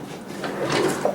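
A kitchen dishwasher door kicked shut with a quick, close sliding thud and rattle, over a faint background hum.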